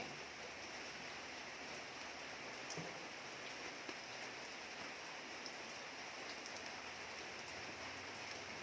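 Steady rain hisses outside during outdoor fish grilling, a dense even wash of drops on surfaces that holds constant throughout, with a few faint knocks and no talking.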